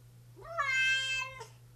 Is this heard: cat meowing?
yes